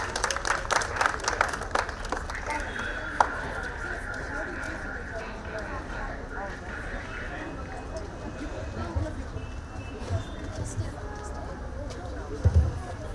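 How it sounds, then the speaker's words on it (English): An audience at a book fair gives a round of applause, moderate clapping strongest at the start and settling into a softer, steady patter with talk and room noise underneath. "Can we have a huge round of applause for her again?"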